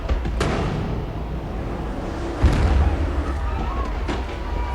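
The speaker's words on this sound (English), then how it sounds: "Here we see those explosions just shooting out." Explosions in The Dark Knight film scene at a building bearing a Gotham General Hospital logo, heavy rumbling blasts with a stronger thump midway, sustained and loud, with faint voices underneath.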